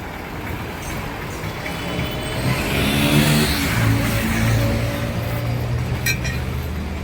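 A decorated vehicle's engine, just serviced and fitted with a new battery, is started and runs with a loud, rough rumble that swells midway and then settles, with faint clinks in the background.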